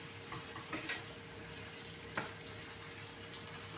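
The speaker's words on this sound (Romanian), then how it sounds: "Și le prăjim așa." Food frying in a pan seasoned with garlic and paprika, a steady soft sizzle with occasional stirring clicks and scrapes, fairly quiet and close, with no talking.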